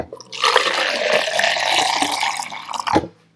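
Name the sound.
pouring water into cup for buttermilk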